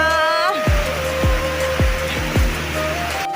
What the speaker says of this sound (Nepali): ट्याक्कै पानी परिरहेछ